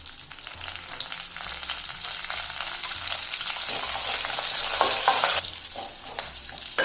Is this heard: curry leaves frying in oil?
yes